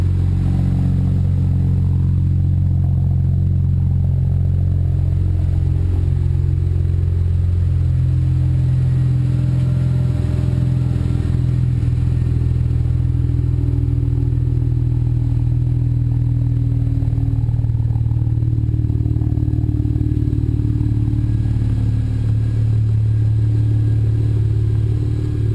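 A BMW 335i fitted with an HPF 3.5-inch stainless steel Gen 2 exhaust idles steadily as it warms up, a deep continuous low rumble close by and loud, with no talking.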